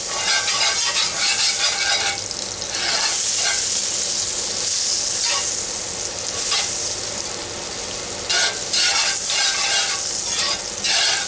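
Butter sizzles and fries in a hot pan with pork chop drippings after a high-heat sear, a steady, loud, close crackling hiss with occasional stirring scrapes throughout.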